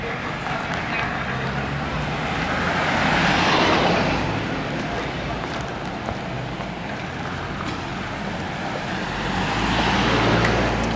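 Cars and traffic passing along a narrow island road in Red Hook, St. Thomas, engines swelling as vehicles approach and pass close by, with steady roadway rumble in between.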